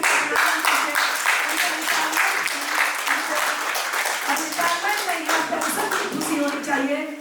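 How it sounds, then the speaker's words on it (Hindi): Steady, energetic clapping from an audience at a retirement celebration, continuous hand claps filling the whole stretch while voices talk over them. "और तमाम जोरदार तालियों के साथ"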